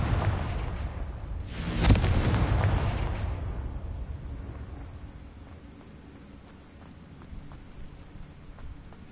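A Confringo fire spell explodes in Hogwarts Legacy, one sharp burst near the start that rolls into a crackling, rumbling tail, fading into quieter sparse crackles.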